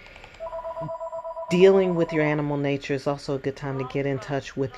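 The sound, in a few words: telephone ringing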